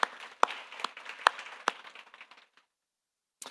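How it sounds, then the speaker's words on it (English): A conference audience applauds for a few seconds, scattered claps with several sharp louder ones over a softer patter, fading out into silence before a final single clap. "let's give a round of applause to all of those that made this possible today"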